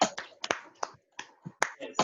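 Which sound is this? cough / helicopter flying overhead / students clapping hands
students clapping hands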